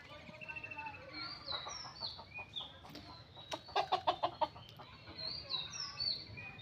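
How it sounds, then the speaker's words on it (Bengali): Free-range hens settled in their nests to lay eggs give soft, repeated clucks, with a brief run of louder, rhythmic clucking in the middle over faint background chirping and rustling. "আজকে দেখাবো কোথায় মুরগি বসছে ডিম পাড়ার জন্য"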